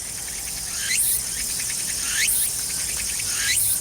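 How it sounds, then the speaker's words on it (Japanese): A tsukutsukuboshi cicada (Meimuna opalifera) calls in summer, buzzing pulses repeating that rise into a shrill sweep about every 1.3 seconds, three cycles, clear and fairly close with no talking. "つくつく帽子と鳴くので、 このセミの名前もつくつく帽子と言います。"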